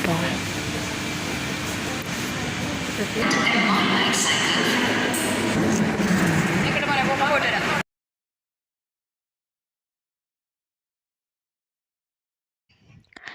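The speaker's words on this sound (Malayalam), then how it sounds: "ഞങ്ങൾ മെട്രോ ട്രെയിനിൻ്റെ അകത്ത് കയറി." Interior of a moving metro train: a steady rumble and hum with air-conditioning noise and voices talking for about eight seconds, then sudden silence apart from a faint sound at the very end.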